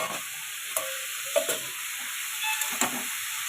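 Sweet potato, long beans and curry leaves frying in a pan, with a steady close sizzle and hiss broken by a few stirring scrapes of a utensil.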